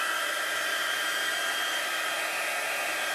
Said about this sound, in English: You always should heat your heat tool up first.